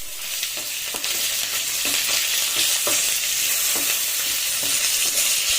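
Asafoetida and curry leaves frying in hot oil for lemon rice give a constant bright sizzle, broken by regular stirring strokes in the pan, with no voices.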